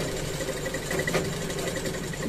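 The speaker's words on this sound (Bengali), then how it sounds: "দেখতে দেখতে একটা সেলাই হয়ে গেল কমপ্লিট" A sewing machine stitches fabric in a steady, fast mechanical whir and patter, running continuously at close range without talk.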